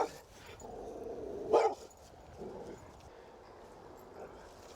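A wild dog, tense and submissive, gives a low throaty growl and then a sharp bark, close by, followed by faint whimpering noises.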